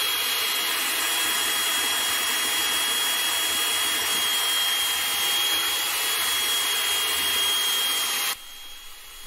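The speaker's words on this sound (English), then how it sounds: "Now we mix this for 3 minutes." A loud, steady mechanical drone of a mixer churns a concrete resurfacing overlay, running continuously and close for several seconds before cutting off abruptly near the end, with no speech.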